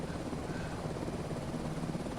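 A helicopter in Microsoft Flight Simulator 2024 hovers and flies near Lord Howe Island, giving a steady, dense rotor drone with a low throbbing beat that stays even and close throughout, with no voices.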